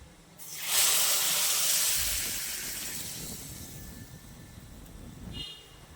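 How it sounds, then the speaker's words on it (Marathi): A sudden loud hiss as red Byadgi chili powder hits hot oil tempering, swelling quickly then slowly fading into a softer sizzle. "फोडणीत तिखट घातले आपलं लाल"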